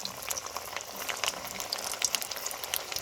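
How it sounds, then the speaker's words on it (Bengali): Bread and potato cutlets fry in hot oil with a continuous bubbling sizzle and scattered crisp pops and crackles, close and moderately loud, with no talking. "এবার এই তেলের মধ্যে আমি কাটলেটগুলো ছেড়ে দেবো।"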